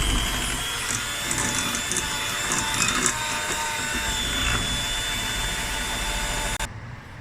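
An electric mixer beats oil, vanilla and sugar for soetkoekies dough with a continuous whining motor drone, steady and loud, that cuts off abruptly just before the end.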